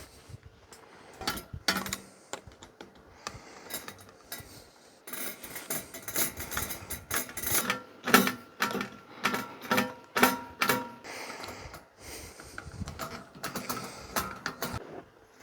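Bolts are fitted back into the motor housing of a vintage Brinsmead fan, giving intermittent close metallic clicks, scrapes and rattles in irregular bursts with short pauses, with no talking.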